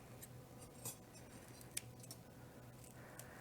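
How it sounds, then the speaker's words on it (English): Scissors snip fresh chives in a kitchen, a few quiet, crisp cuts at irregular intervals over faint background hiss. "we're gonna snip the chives"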